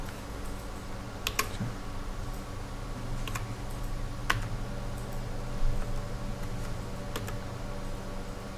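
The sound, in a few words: computer keyboard keys pressed, Ctrl key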